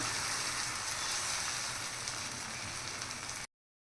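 Oil sizzles steadily in a pan as a snack fries, a close, even hiss that continues without a break and then cuts off abruptly.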